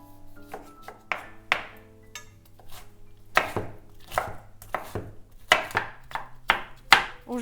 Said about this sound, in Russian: Огурец, как и другие продукты, я режу так, чтобы получились кубики.